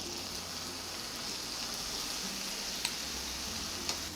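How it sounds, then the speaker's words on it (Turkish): Tomatoes going into tomato paste that is already frying in a pan, giving a steady close sizzle with soft stirring and a couple of small clicks, no talking. "Şimdi salçam da kavruldu. Üstüne domatesleri koyam."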